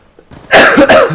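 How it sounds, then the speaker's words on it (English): A single loud, close cough bursts out after a short breath, harsh and rasping. "you're just coughing for no damn reason, and you can't stop coughing"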